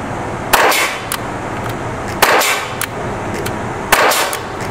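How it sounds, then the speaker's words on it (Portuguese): A Rossi W119 CO2 air pistol loaded with steel BBs fires three sharp, loud pops spaced over a few seconds, each a crisp burst against a steady background hiss. "Vamos lá? 3 disparos."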